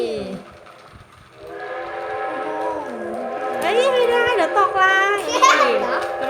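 A battery toy train hauling toy construction vehicles runs with a whirring motor and warbling electronic horn and whistle tones, while a child chatters over it throughout.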